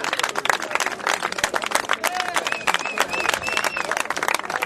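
A memorial service audience applauds the Herer family, dense clapping mixed with whoops and cheering voices that hold steady across the whole stretch.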